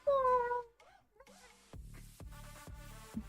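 A person's voice imitates a hungry cat, giving a long drawn-out wailing meow, close and loud, followed by quieter vocal noises and then rhythmic thumping.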